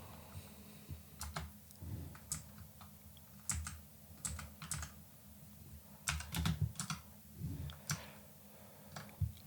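Keys are being typed on a computer keyboard while a file is edited in the Nano text editor. The clicks come in quick, irregular bursts at close range, with short pauses between them and no talking.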